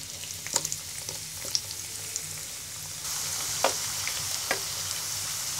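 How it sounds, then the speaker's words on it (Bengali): Potato chips fry in hot soybean oil in a frying pan with a steady bubbling sizzle and a few sharp crackles and pops, close and unbroken, with no talking. "এবার তেলটা গরম হয়ে গেলে একটা একটা করে চিপস ভেজে নিব।"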